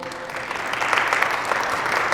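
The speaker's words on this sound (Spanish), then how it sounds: "Gracias por esos aplausos" Applause from a church congregation during a Spanish-language service, a dense steady patter of many hands swelling slightly and holding loud for two seconds with no talk over it.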